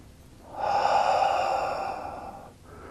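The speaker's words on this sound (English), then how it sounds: "Calm, tranquil, long, slow, deep breaths." One long, slow, deep breath drawn in during a calm qigong session, a steady airy rush lasting about two seconds before fading.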